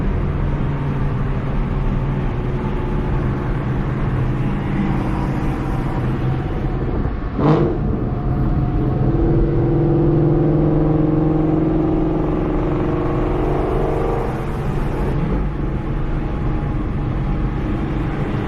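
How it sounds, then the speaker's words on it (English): A car engine revs up and drops in pitch as it shifts down, heard over steady road rumble, with one sharp knock partway through. "He's downshifting."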